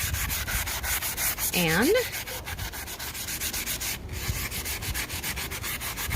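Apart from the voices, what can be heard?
rough-grit sandpaper sanding rust off garden tool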